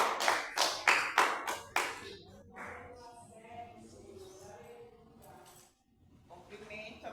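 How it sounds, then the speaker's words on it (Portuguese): A church congregation claps hands in praise, with a burst of loud rhythmic claps at first that then thins out under a voice speaking. "faça palmas e louva o Senhor Jesus"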